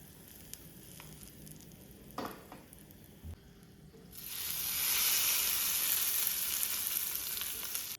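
Curry leaves drop into hot oil for tomato chutney, setting off a sudden loud, steady crackling sizzle after a few quiet kitchen clinks, close up with no one speaking.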